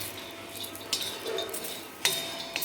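Grated coconut dry-roasts in a pan, a soft steady hiss broken by a few sharp metallic clinks and scrapes of a spoon stirring against the metal, close and fairly quiet.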